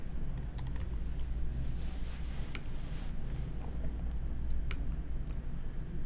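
Someone types a new value on a computer keyboard, producing scattered light key clicks in a quiet room, faint and close.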